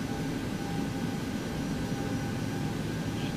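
Steady airplane engine drone in the flight simulator X-Plane 11, a continuous even roar with no change in level and no talking.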